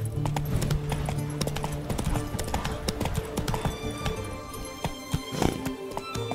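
Roach, a horse in The Witcher 3, galloping with rapid rhythmic hoofbeats close up, joined by faint creaking and ambient game sounds, steady and clear with no speech over it.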